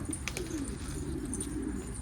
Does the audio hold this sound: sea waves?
no